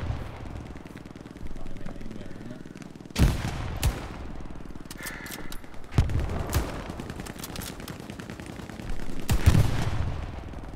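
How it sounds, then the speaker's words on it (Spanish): Gunfire and explosions from the Hell Let Loose video game: repeated sharp shots and bursts of rapid fire, with heavy blasts near 3, 6 and 9.5 seconds over a constant rumbling battlefield background. "No veo más que explosiones por todos lados"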